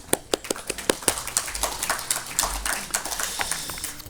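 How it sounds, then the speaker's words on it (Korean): Audience applause at a workshop on the Unification New Village Movement, heard as a thin, fairly sparse patter of hand claps that comes in separate taps at first and then thickens slightly, with a little low rumble underneath. "여러분 박수"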